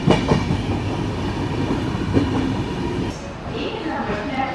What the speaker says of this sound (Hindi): बाकी अपनी ट्रेन अभी सांतरागाछी रेलवे स्टेशन को स्किप करी